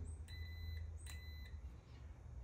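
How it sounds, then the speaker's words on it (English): Two short electronic beeps from a multimeter continuity test on golf cart headlight wiring, close, faint and separated by a brief pause, over a quiet low hum. "The beeping noise lets us know we have continuity."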